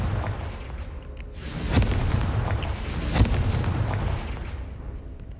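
Repeated fiery blasts of the Confringo explosion spell in the video game Hogwarts Legacy, two booming bursts about a second apart over a roaring, noisy game background, with no talk.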